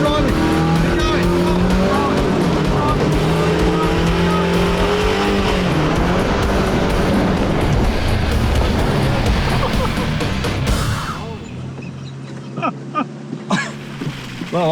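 An off-road truck engine revs hard and strains continuously with tires spinning while climbing a muddy, rain-soaked high country track, then cuts out abruptly, leaving a few faint knocks.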